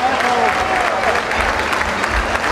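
Concert crowd applauding at a live show in Santa María Tecomavaca, Oaxaca, a steady wash of clapping with faint crowd noise and a brief musical tone at the start.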